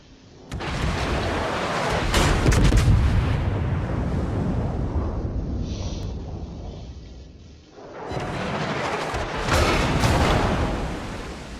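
Naval guns of the battleship Texas firing in a video game, a long rolling roar of heavy booms and rumbling, loud and sustained, easing briefly before a second thunderous volley swells up.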